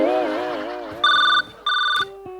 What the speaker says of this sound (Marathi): मॅडम फोन आला तुमचा.